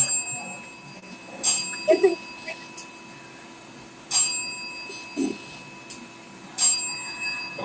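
A bicycle bell rings a few times in short bursts, with people talking around it.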